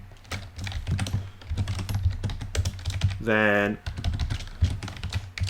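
Rapid, close keystrokes clatter on a computer keyboard while code is written, a steady stream of clicks broken by a brief tonal beep, with someone speaking briefly over it.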